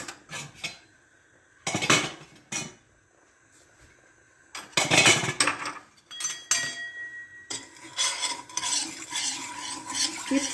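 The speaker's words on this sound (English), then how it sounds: "Keep stirring." A spoon stirs sugar syrup with milk in a pan over raised heat, scraping and clinking against the metal in irregular bursts, with bubbling sizzle building underneath toward the end.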